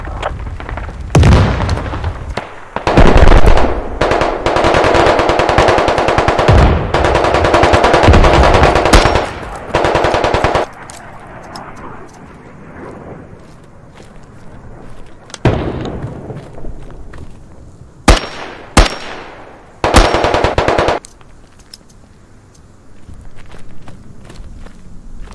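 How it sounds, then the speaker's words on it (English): Gunfire in the video game Squad, with long, loud bursts of automatic fire in the opening seconds, then quieter stretches broken by sharp single shots and short bursts, with footsteps between them. "There's a lot of people shooting me right now."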